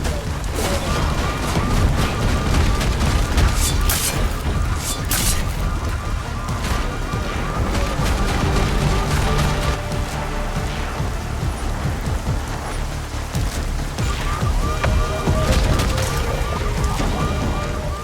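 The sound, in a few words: gunfire in the video game Deus Ex: Mankind Divided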